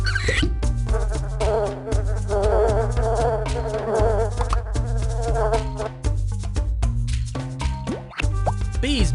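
Cartoonish bees buzz in the Stanley: Tiger Tales PC game, with wavering drones that rise and fall over bouncy, rhythmic game music that plays continuously underneath.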